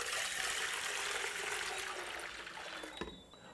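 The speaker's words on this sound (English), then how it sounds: "Then I'm going to throw quite some water into it." Water is poured into a pot of concentrated, bitter mauby mixture for a Caribbean drink, making a steady, soft splashing rush for about three seconds that ends in a brief clunk.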